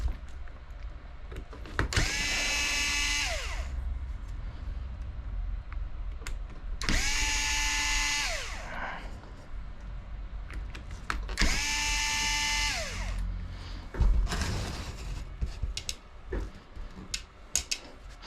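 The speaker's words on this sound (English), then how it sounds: "you'll take off the 4 screws on the back of the motor" A power tool backs out the back plate screws of an Ongaro B21.04 motor in three separate runs of a few seconds each, rising and falling in pitch, up close with small clatters between runs.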